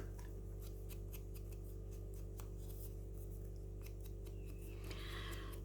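Small scissors snip quietly around the white edges of a cut-out paper doll card, a string of faint, irregular clicks and crisp cuts over a low steady hum, with no talking.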